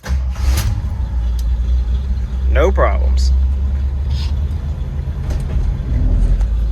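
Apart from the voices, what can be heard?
Jeep engine running after alternator replacement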